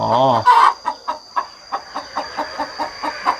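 A mother hen in a cage with her chicks on a Thai chick-rearing farm gives a quick squawk, then clucks in a steady, evenly spaced series, close and clear.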